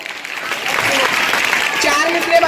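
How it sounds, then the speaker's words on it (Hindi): An audience at a children's Urdu poetry gathering in a school claps briskly in a short, steady burst of applause, with voices mixed in beneath the clapping. "जोरदार तालियां"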